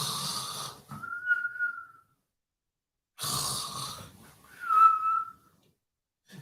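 A voice imitates snoring: two rounds, each a breathy snorted inhale followed by a whistling exhale, with a short silence between them, close and alone.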